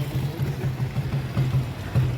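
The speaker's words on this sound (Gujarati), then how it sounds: "ક્રેન આવેલી છે અને આ બોટું છે એ બધી ચરાવે છે" A crane hauls fishing boats ashore at season's end, its engine chugging close by in a rhythmic low throb. Regular pulses run steadily through the short stretch with no voices.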